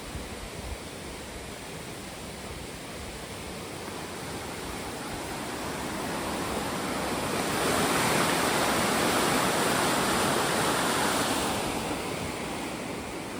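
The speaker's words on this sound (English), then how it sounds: "You can hear it flow under the bridge." River water flowing under a bridge, a steady broad rushing wash that swells louder in the middle before easing back, heard without any talking.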